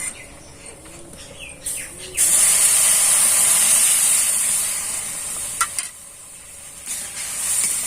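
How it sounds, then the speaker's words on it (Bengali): Water poured onto roasted semolina in a hot pan while making kalo jam dough sets off a loud, steady steam hiss that starts abruptly and keeps going, with fainter hissing before it. "এবার আমি পরিমাণ করে জল দিয়ে দেবো।"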